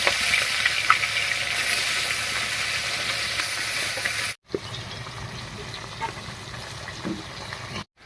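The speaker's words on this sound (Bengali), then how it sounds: "এবার কড়াইয়ে সর্ষে তেল দিয়ে মাছটা ভেজে নিচ্ছি" Fish sizzles in hot mustard oil in a wok, a steady loud hiss and crackle that drops out briefly once, then resumes a little quieter, with a few stirring clinks.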